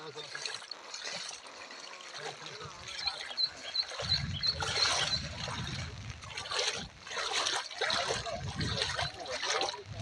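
River water flows and trickles steadily beneath people talking outdoors, with a low churning rush growing stronger in the second half.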